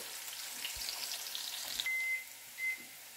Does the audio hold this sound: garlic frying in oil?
yes